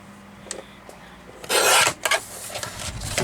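A journal page being cut at an angle gives one brief, close rasping swipe, followed by a few shorter scraping strokes, with no talking.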